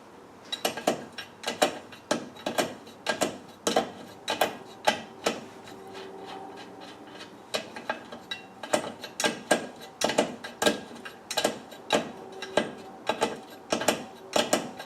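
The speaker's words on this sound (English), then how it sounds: "I'll start to put the jam nut on before this thread gets too" A jam nut being tightened onto the threaded bolt of a Britpart DA2232 swing-away wheel carrier, giving a steady run of close metallic ratcheting clicks in short regular bursts with brief pauses between them.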